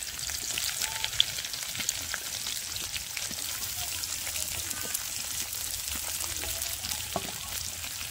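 Onions frying lightly in a pan with dried chillies, bay leaf and whole cumin give a steady, close sizzle with faint crackles and small stirring clicks, continuous throughout.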